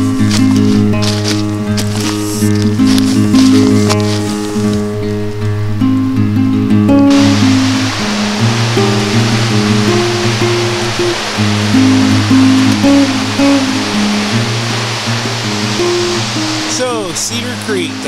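Water rushes steadily at Cedar Falls, the tallest waterfall in Illinois, a continuous broad roar heard throughout with loud music playing over it.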